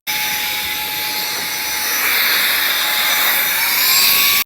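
A hair trimmer buzzes loudly and continuously at close range during a home haircut, with a steady high-pitched whine that shifts slightly in tone as it moves.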